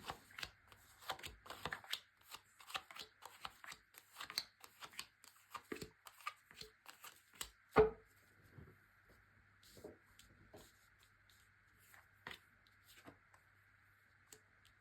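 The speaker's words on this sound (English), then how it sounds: "So these have had a good old shuffle." Tarot cards being shuffled and riffled close by, a quick run of crisp flutters and taps, then quieter scattered clicks against a faint steady hum.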